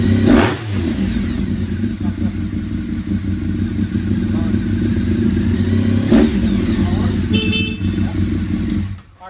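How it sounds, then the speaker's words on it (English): A motorcycle engine idles and revs through a raspy exhaust, steady and close, with a couple of sharp blips and a faint toot near the end. "Good sound exhaust and a nice raspy sound without sounding too high pitched."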